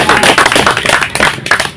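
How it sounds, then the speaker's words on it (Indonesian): Dense, continuous clapping from a church congregation at a Good Friday service, loud and close, with no pauses or voices rising above it. "Boleh berikan tepuk tangan buat Tuhan Yesus dan kita."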